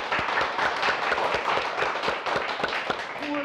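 Large audience applauding loudly and steadily throughout, dense clapping with a few sharp claps standing out, a brief voice entering near the end.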